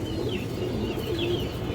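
A single female pigeon for sale, one of a mixed lot of colour, high-flyer and racing-line Giribaz birds, coos steadily at close range, low rolling calls filling the short moment with no talk over them.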